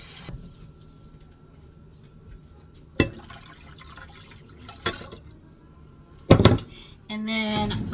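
Water for pickle brine is poured, with scattered drips and knocks followed by a steady pour near the end, close and fairly quiet in a kitchen.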